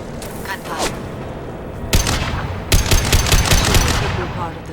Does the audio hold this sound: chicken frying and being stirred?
no